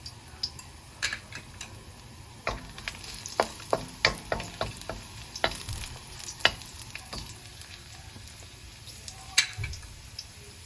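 Beef tripe sizzling in a hot pan for a stew, a constant crackling fry with frequent sharp pops and spatters, close and moderately loud, no talking.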